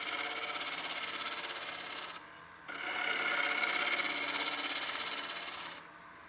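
A woodturning tool scrapes along the exterior of a partially seasoned wooden bowl on a lathe, giving a steady raspy hiss in two long passes separated by a brief lull.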